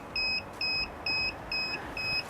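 An incubator alarm, reset on a homemade incubator, emits five evenly spaced electronic beeps, each a clear two-tone chirp of about a quarter second, loud and alone against faint background hum.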